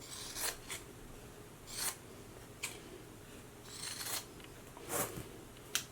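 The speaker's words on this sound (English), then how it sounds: "I'm just going to clip the corners and trim away some of the seam allowance." Scissors snipping fabric to clip corners and trim seam allowance on a sewn belt, a handful of short, faint crisp cuts scattered irregularly over quiet room tone.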